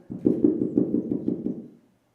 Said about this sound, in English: then some Mormons walked up and knocked on the fucking door